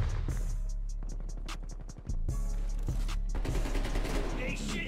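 A MAC-10 in the video game Call of Duty fires rapid, loud bursts of closely spaced shots, briefly pausing before more automatic fire and scattered game effects follow.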